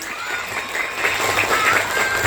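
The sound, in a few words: audience applause for a child's speech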